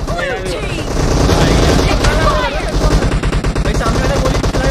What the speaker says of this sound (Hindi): भाई सामने वाला गोली चला रहा है